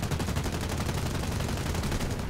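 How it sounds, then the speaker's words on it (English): MG 151 cannons firing in the War Thunder flight game, a rapid sustained burst of loud, evenly spaced shots hammering out with no break and no voices. "the sounds on the MG 151 cannons is just a shadow of what it used to be"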